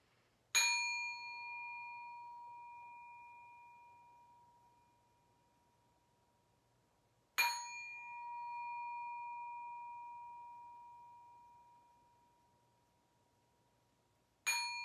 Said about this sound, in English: I'm going to ring the bell 3 times, and we're just going to pause and be quiet as we listen to the bell